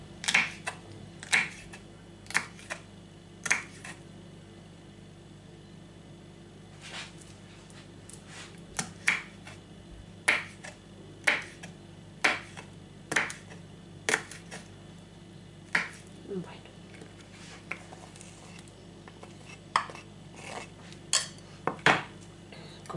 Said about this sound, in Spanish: Yo lo pongo así juntito y lo voy cortando así finito